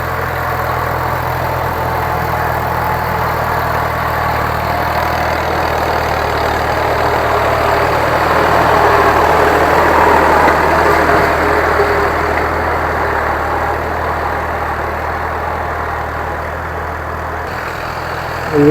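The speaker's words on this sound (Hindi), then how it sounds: "ये आ गया ट्रैक्टर, दूसरा फेरा दोबारा आ गया जी।" A tractor engine runs steadily in a corn field during maize sowing, a continuous low diesel drone with a slight swell midway, fairly close and with no talk over it.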